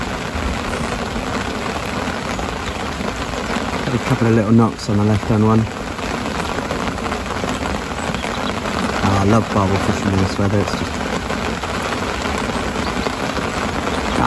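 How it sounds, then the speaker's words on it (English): Steady rain patters on a fishing umbrella beside a swollen river during barbel fishing, a continuous wash of drops close overhead while someone talks at intervals beneath it. "Under my brolly, out the rain and out the wind."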